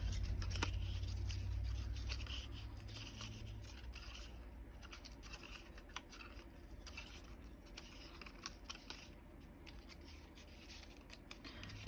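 Paper is folded along score lines by hand, giving faint, steady crinkling and rubbing with small creases and taps in a quiet room.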